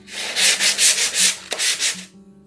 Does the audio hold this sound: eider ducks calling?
no